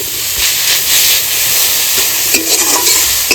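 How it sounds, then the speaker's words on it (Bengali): Bottle gourd greens stir-fried in a pan with salt and turmeric give a steady close sizzle and hiss, with brief stirring scrapes and no talking. "লাউ শাকটা তো ভাজা হয়ে গেছে"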